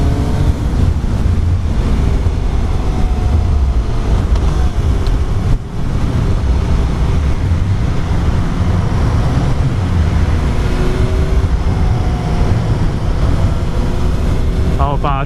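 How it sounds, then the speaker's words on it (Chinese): A 2018 Suzuki GSX-S750's four-cylinder engine drones steadily while riding, a loud, continuous rumble blended with heavy wind roar, holding nearly constant with one brief dip midway. "第一印象超顺，这4缸的引擎"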